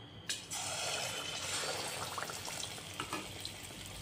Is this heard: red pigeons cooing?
no